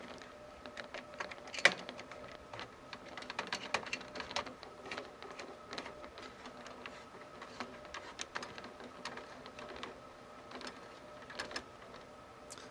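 Screws on a desktop computer heatsink being tightened, a quiet series of small close clicks and scraping ticks from a screwdriver, irregular and soft, with no talking.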